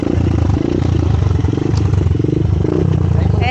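A motorcycle used for rough mountain roads idles close by at a campsite on Roty Peak in Bukidnon, Philippines. It gives a loud, steady, throbbing engine rumble with slight rhythmic pulsing throughout.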